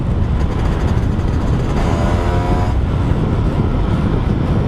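A Yamaha F1ZR two-stroke motorcycle runs with worn clutch plates that slip, making a loud, close, steady engine drone with a brief rising whine partway through and no voices.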